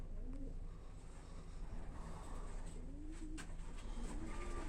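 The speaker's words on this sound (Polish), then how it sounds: "Także zakoszujemy gołąbki, będę koszował 20 sztuk." Young pigeons coo softly a few times in a loft, their low rolling calls rising over a constant background rumble. No one speaks.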